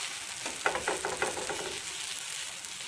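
A methi dosa made with fenugreek-seed batter fries on a hot pan just after flipping, a close, continuous crackling sizzle with a few brief scraping touches early on.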